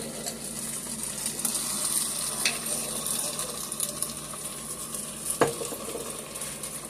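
Garlic and caramelized onion Alfredo sauce for chicken and shrimp Alfredo sizzles softly in a pan, with steady low frying hiss, a few light stirring scrapes and one sharp utensil clink near the end.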